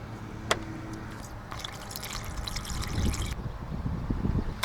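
Coolant is poured into the cooling system of a Suzuki Jimny JA22W, a soft liquid trickle and gurgle that runs for a couple of seconds, close and fairly quiet, with a light tap near the start.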